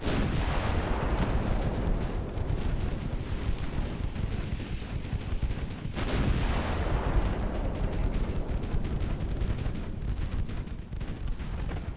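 German warship main and secondary guns fire in Ultimate Admiral Dreadnoughts, a continuous barrage of booming, overlapping detonations with two heavier salvos standing out, loud and rumbling throughout.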